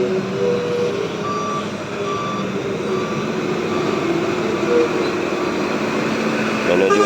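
MPM intercity bus on the Padang–Jakarta route reversing, its warning beeper sounding in regular repeated beeps over a steady diesel engine idle and faint background activity.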